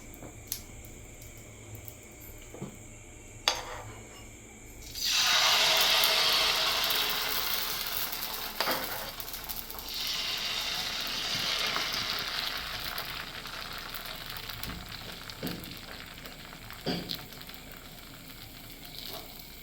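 Poha sponge dosa batter hits hot oil in a pan and bursts into a loud, steady sizzle after a few quiet seconds of small clicks, then settles into a continuous frying hiss with a brief dip partway through.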